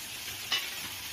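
Water splashed into a pan of frying koi fish curry gives a brief sharp hiss over a faint, steady background sizzle, all quite soft.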